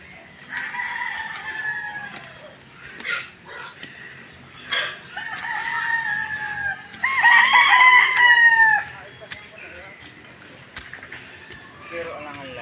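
Roosters crow several times over a background of clucking chickens, and the loudest, longest crow comes partway through. People talk in between the calls.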